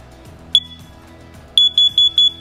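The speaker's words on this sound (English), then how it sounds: "Different series of beeps often mean different things for CO alarms." A smoke or carbon monoxide alarm beeps loudly and shrilly up close: one isolated chirp, a pause, then four quick evenly spaced beeps over a faint low hum.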